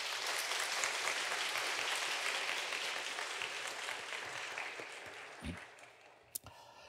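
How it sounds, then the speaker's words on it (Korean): Sustained applause from a church congregation during a Sunday service, a dense steady patter of clapping that slowly thins and fades toward the end, with a couple of isolated claps or knocks near the close. "우리 감사와 격려의 박수 한번 드리겠습니다"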